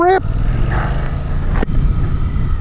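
A 2026 Suzuki GSX-8TT motorcycle under way: a brief engine rev rises at the start, then a steady low engine drone runs beneath loud rushing wind.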